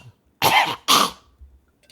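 A person imitates a dry, hacking cough: two sharp, harsh bursts in quick succession, close and loud, then quiet.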